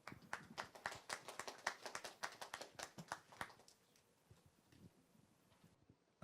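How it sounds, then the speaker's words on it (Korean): Applause from a forum audience welcoming a law firm attorney to the podium at an AI policy event: a burst of clapping that thins out and fades to near silence after about three seconds. "큰 박수로 모시겠습니다"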